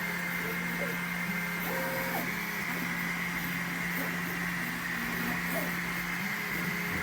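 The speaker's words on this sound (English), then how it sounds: "I have to babysit this stupid Modix printer" A Modix 3D printer runs steadily with a constant mechanical hum and fan drone, its motors shifting tone in short whining moves as the head travels, close and continuous throughout.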